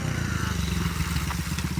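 A dirt bike rides on concrete, its motorcycle engine putting out a steady low throbbing drone with pulsing firing beats, fairly quiet and somewhat distant throughout.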